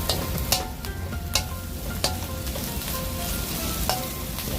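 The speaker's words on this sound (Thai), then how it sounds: "แล้วก็ผัดให้เข้ากันครับ" Spicy frog sizzles steadily in a pan during a dry Thai stir-fry. Repeated metallic scrapes and clanks from the spatula strike the pan in a loose rhythm over the continuous close frying noise.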